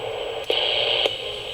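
An Eton FR160 radio hisses with a steady high whine as it locks onto a station, with two brief crackling pops breaking through.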